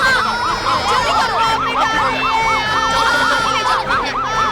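An ambulance siren wails in a steady, fast, repeating up-down pattern, loud and close, continuing without a break.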